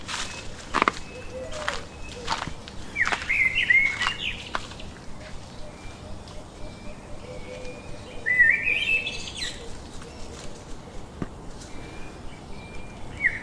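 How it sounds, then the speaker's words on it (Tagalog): Several birds chirp and tweet in short bursts over a low outdoor background, with a couple of brighter song phrases standing out mid-distance. "Ire-record ko lang po sa cellphone yung mga huni ng ibon."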